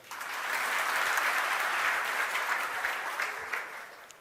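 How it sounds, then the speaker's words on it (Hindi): Students in a coaching classroom clap for themselves, a dense, even burst of applause that swells and then slowly tapers over about four seconds. "खुद के लिए जोरदार तालियां बजा दो"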